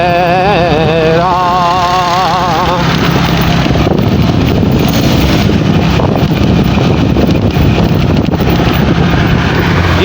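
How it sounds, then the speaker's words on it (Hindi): Motorcycle ridden one-handed on a road, engine hum buried under heavy buffeting wind noise against the microphone, with a voice singing over the first few seconds. "एक हाथ से मोटरसाइकिल चला रहा हूँ"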